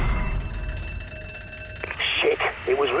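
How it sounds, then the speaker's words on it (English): An alarm bell rings out in a PlayStation 4 survival horror game, a loud clattering ring that starts partway through and sits over a constant background rumble of game noise. "Shit, it was rigged to the alarm."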